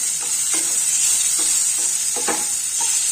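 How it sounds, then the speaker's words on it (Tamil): Tomato sizzles steadily in a hot pan, a bright continuous crackle, with occasional scraping stirs of a utensil. "மீடியம் சைஸ் தக்காளி, வதக்கலாம்."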